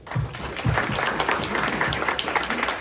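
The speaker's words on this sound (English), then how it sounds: "Please join me giving them a round of applause" Audience applause for honorees at a library poetry contest awards ceremony, a crowd clapping in a thick, even patter with a few louder individual claps standing out.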